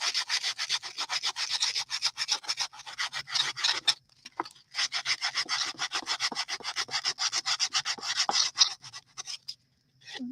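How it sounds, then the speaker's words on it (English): Quick rhythmic back-and-forth rasping of sandpaper on wood, close up, in two long bursts separated by a short pause. "I'm just sanding this down so it sands off that extra lip"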